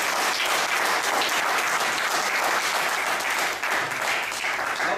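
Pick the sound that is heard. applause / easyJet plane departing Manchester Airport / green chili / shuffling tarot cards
applause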